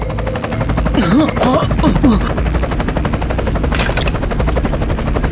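A helicopter's rotor chops loudly and steadily nearby in a fast, continuous pulsing throb, with a brief voice heard over it.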